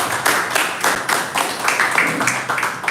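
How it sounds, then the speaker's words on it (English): An audience applauds poets at a poetry reading, a loud, full burst of clapping from many hands with rhythmic swells that carries on throughout. "Big round of applause, please."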